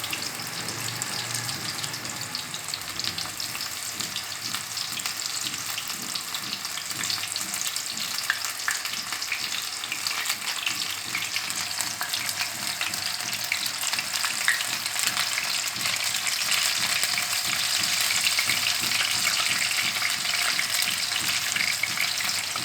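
Mixed vegetable pakoras frying in hot oil, making a dense, steady sizzle and crackle that continues unbroken throughout, with no talking.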